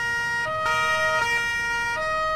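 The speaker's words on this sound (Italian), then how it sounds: "basta, basta sirene" Emergency vehicle sirens blare in Farming Simulator 19 during a carabinieri escort: loud, steady multi-tone wails with abrupt pitch switches every half second or so, sounding close and alone.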